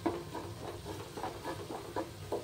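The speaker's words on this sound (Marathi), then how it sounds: "खसखस आपण छान भाजून घेऊया" Poppy seeds roast with a pinch of cardamom powder in a pan, making soft, quiet stirring scrapes and faint sizzle in a loose repeating rhythm, with no talk.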